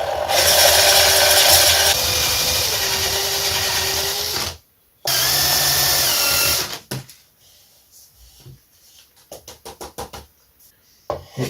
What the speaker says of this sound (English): It sands differently whether it's end grain or side grain